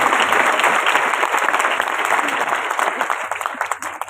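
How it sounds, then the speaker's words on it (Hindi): An audience at a business success talk claps loudly and continuously for the full stretch, dense and close, easing slightly toward the end. "अगर आपको कम लगे तो ताली कम बजाना, अगर ज्यादा लगे तो ताली ज्यादा बजाना"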